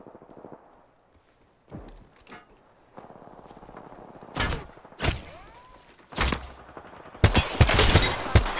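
Incoming gunfire hits the player in Apex Legends, with a handful of loud, sharp shots and impact cracks spaced a second or so apart, then a rapid cluster of hits at the end over quieter game noise.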